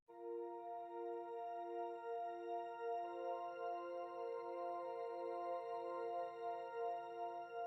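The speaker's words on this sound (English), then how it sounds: "So the next layer that I added was a pad sound that sounds like this." A soft, sustained synth pad for a chillhop beat holds a warm chord with little change, smooth and steady, playing alone at a gentle level.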